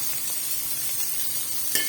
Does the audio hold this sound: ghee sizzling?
yes